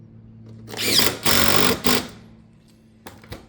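A power driver runs in a few short bursts as it sinks fasteners through shake caps along a roof rake on fascia board; two loud whirring runs are followed by a brief third, then quieter handling noise.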